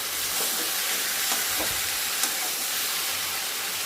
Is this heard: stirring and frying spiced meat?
yes